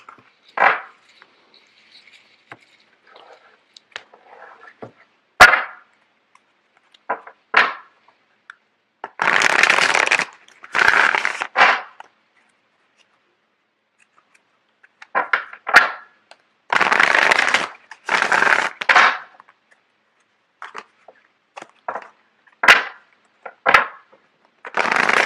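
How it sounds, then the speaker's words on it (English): Tarot cards are shuffled in several bursts of crisp riffling and flicking, separated by quieter handling taps and pauses, close and fairly loud. "Just give me a second while I get the cards shuffled out."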